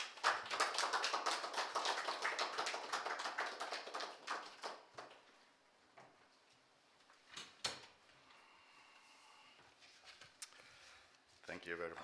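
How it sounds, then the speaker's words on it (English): A conference audience applauds a speaker being welcomed at a policy event, dense clapping for about five seconds that thins into scattered claps and a few final bursts, with a short spoken moment near the end. "Let's welcome Professor Paul Alagidede with a round of applause"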